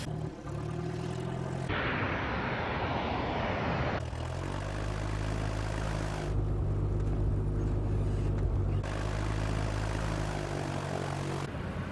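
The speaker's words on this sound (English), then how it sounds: "You've got a lot of airplane taxiing out." Airplanes taxiing out at an airport, with a loud, continuous engine drone and whine holding steady throughout and the tone shifting as different aircraft pass near.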